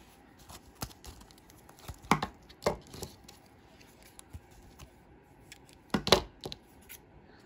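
Scissors trim around a sealed shaker card pocket near its seal line, producing a few quiet, spaced snips and crisp cuts over a soft background, with no talking.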